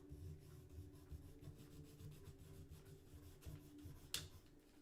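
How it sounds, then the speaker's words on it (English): Derwent drawing pencil colouring on paper, a close, quiet run of rhythmic scratchy rubbing strokes with one sharper tap near the end. "This is a Derwent drawing"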